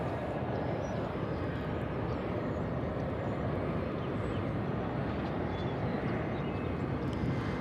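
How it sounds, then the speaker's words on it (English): An American Eagle Embraer 175 airliner arrives at DFW Airport, its engines a steady, broad, distant roar that holds evenly without a break. "It's an Embraer 175 coming in from Bentonville, Arkansas, the home of Walmart."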